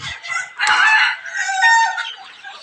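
Native village chickens on a small farm, with a rooster crowing one long, loud call close by, alone with no talk.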